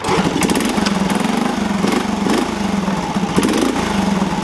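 A Honda C70 Passport small motorcycle engine runs at a steady idle, loud and close, with a rapid even putter and no voices over it.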